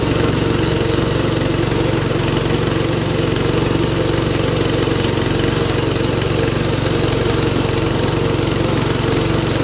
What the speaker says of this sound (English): You can idle it down pretty far once you get it moving. You can pretty much idle this thing around.